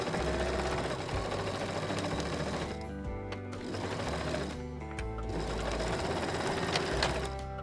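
A sewing machine runs in two bursts of fast, steady stitching along the side seams of a tote bag, with a short pause between runs, close and clear.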